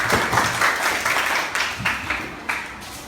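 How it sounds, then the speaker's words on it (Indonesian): Applause from a group at a university teaching practice session, a steady wash of clapping for about three seconds with a few louder claps standing out. "kita beri tepuk tangan dulu untuk orang"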